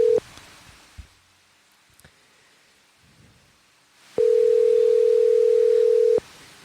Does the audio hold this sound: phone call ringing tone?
yes